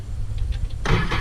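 A 2018 Sea-Doo RXT-X 300 personal watercraft fitted with a Riva Racing Stage 1 kit cranks briefly, then fires up into a loud, close engine roar.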